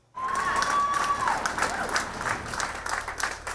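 An audience bursts into applause after a brief silence, a dense, sustained clapping from a crowd that stays loud and even for several seconds with no talking over it.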